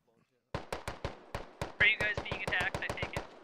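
Rapid gunfire in the military shooter Squad, a burst of sharp, evenly spaced shots from mid-distance under talk, with a brief higher whine partway through.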